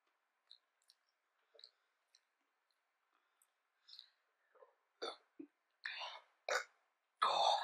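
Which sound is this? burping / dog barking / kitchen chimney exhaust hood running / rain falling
burping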